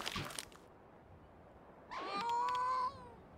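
A cat in a video game lets out a single loud, drawn-out meow lasting about a second, after a brief rustling noise and a quiet pause.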